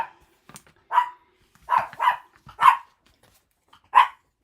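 A dog barks five times in irregular bursts, two close together then spaced out, fairly loud and near with quiet gaps between.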